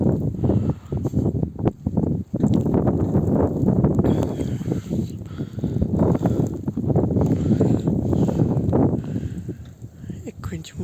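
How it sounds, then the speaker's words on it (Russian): A March blizzard with wind and heavy snow, a steady rough roar of wind buffeting the microphone throughout, with a person talking under the gusts. "Ветер, снег."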